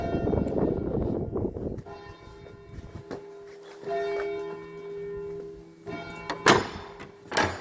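Church bells ring near a mountain chapel during a hike in chamois country, with a few distinct strikes whose long tones sustain and overlap above low rumbling noise, and the later strikes are louder.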